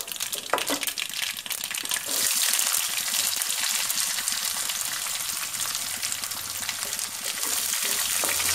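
Onions for matar curry fry in hot oil in a pan, a steady loud sizzle and crackle with faint stirring scrapes and no talking.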